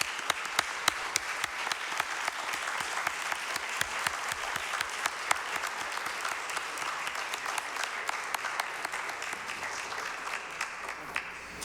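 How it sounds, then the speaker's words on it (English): Steady round of applause from attendees at a city council meeting after an item is approved, many hands clapping continuously at moderate distance with no talk over it. "Round of applause."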